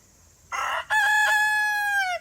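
A rooster crows once, loud and close, with a rising start and a long sustained harmonic call lasting over a second.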